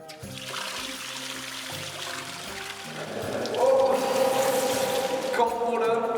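Cold water is poured in an Istanbul hammam, a splashing pour that swells louder halfway through and echoes in the humid stone room, with a faint voice nearby.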